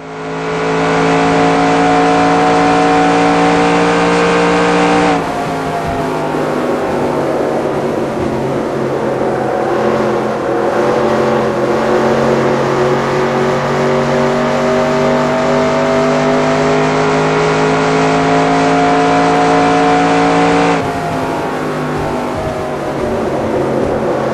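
Race car engine from the NR2002 video game lapping the Las Vegas track, a loud, steady high-pitched drone that holds nearly constant pitch, with brief shifts in tone as the car moves around the oval, and no talking.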